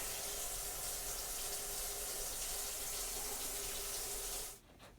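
Water rushes steadily through a newly installed Rusco spin-down sediment trapper, a loud, continuous hissing flow that suddenly shuts off near the end, leaving a faint trickle.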